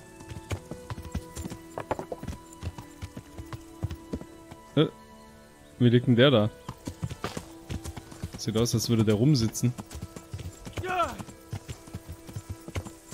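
Horse hooves clip-clop in the medieval role-playing game Kingdom Come: Deliverance, a loose rhythmic trotting with bursts of movement, heard under ongoing talk from a player.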